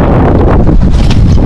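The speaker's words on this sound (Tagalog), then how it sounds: "Biglang nag-iba yung hangin, sobrang lakas na talaga." Strong wind roars across the microphone near a seaside restaurant in the Philippines, a dense, loud buffeting rumble filling the short moment with no voices.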